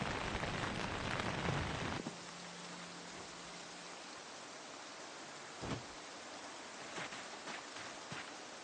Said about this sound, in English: Just the sound of raindrops